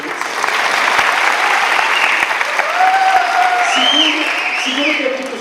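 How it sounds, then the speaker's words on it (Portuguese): A crowd claps steadily in sustained applause that fills the room for several seconds, with a few voices mixed in. "eu queria pedir primeiro uma salva de palmas a Zeno Veloso"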